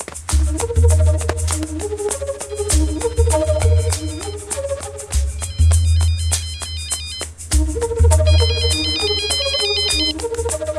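A mobile phone ringtone plays loudly in repeated melodic bursts over a low musical bed in a Telugu film scene, with short breaks between the rings.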